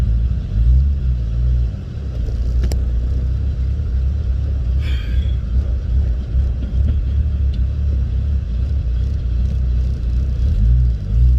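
A Lexus GS300 fitted with a 2JZ-GTE engine drives on a test drive, a steady low rumble of engine and road noise with gentle rises in revs, loud and continuous.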